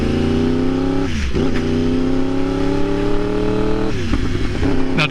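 A 2015 Yamaha R1 sport bike under way, its engine climbing smoothly through the revs in a rising whine, dipping sharply at two gear changes, then pulling up again, loud and close with no voices.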